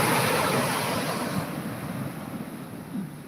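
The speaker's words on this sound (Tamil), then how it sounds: "கடல் அலைய பாருங்கள் அப்படி மெதுவாக வந்து மெதுவாக போகுது" Sea waves rolling onto the beach at Tiruchendur, a continuous broadband wash of surf with wind noise on the microphone, strongest at first and easing slightly, with no voices.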